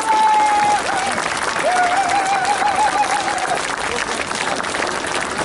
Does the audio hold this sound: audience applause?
yes